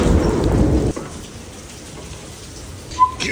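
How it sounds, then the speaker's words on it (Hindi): Heavy monsoon-type rain pours during a flood, a dense loud wash that suddenly drops to a quieter patter, with a brief faint sound near the end. "वो इतनी तेज़ बारिश,"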